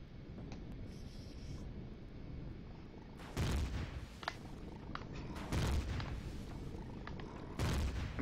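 Enemy gunfire in the space survival game Empyrion Galactic Survival sounds as a few separate heavy booming shots spaced seconds apart, loud over a steady low rumbling background.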